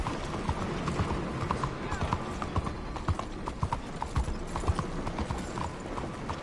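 Horse hooves clip-clop steadily in the Red Dead Redemption 2 video game, a continuous rhythm of close hoofbeats over a dense outdoor ambience.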